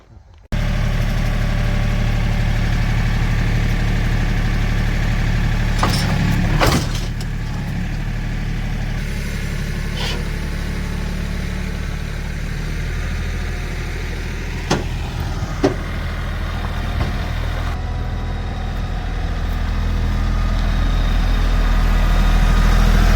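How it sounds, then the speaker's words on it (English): A tractor engine idles steadily and loudly throughout, a continuous low rumble with a few faint clicks and knocks, and no talking. "Now let's fire up the tractor."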